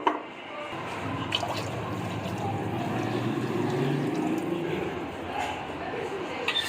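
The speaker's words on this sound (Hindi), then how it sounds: "ये 1 लीटर पानी डाल रहा हूँ, इसमें हम 2 लीटर पानी डालेंगे" Water, about two litres, pours steadily into a cooking pot of fried chicken for yakhni soup, giving a continuous splashing, filling rush that stays level throughout.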